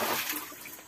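Clean water starting to flow up from the ground after dirty water is pumped out, a steady broadband wash of running water, fairly loud and continuous with no voices.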